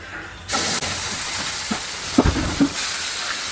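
Boiled beef tipped into a hot pan, setting off a sudden loud steamy hiss that holds steady, with a few knocks of a utensil against the pan.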